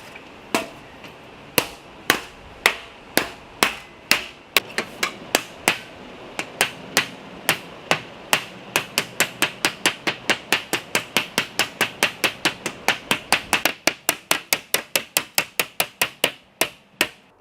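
Rapid, sharp metallic hammer blows on sheet aluminum on an Airstream Argosy, dozens of ringing strikes in a quickening rhythm, loud and close.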